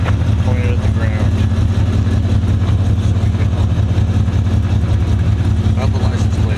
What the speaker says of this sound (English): It was the Corvette that was running. Let's get the exhaust.